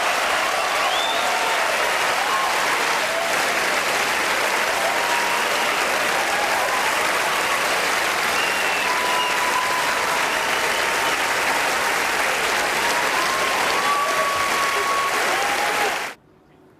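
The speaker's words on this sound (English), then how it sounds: "Listen to the level of cheering when his name is called out by Harrison Ford." At the Oscars, a large audience breaks into loud, sustained applause and cheering for Roman Polanski as his name is announced, a thick roar of clapping with faint whistles that runs unbroken before cutting off abruptly.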